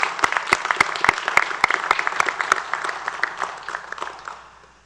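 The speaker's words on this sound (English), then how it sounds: "Graduates, please join me in giving your friends and family a round of applause" Audience applause at a Frederick Police Academy graduation ceremony: a crowd claps steadily with sharp, distinct hand claps standing out, then the clapping thins and fades toward the end, with no talking.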